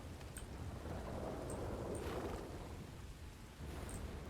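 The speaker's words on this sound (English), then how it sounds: "Let the rain pick up." Rain and thunder in the video game RedM: a steady, soft wash of rainfall with a low rumble of thunder, fairly faint and continuous, with no speech.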